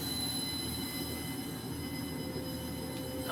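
A Pacer Class 142 diesel train runs in Train Simulator, with a steady rumbling roll and faint high squeal tones that continue evenly throughout and carry no speech.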